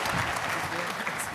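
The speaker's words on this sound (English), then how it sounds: "A warm round of applause representing Morocco here for this last roundtable." Audience applause breaks out at a health-crisis preparedness conference roundtable as a panelist representing Morocco is introduced: a brief, dense burst of clapping with a voice speaking over it.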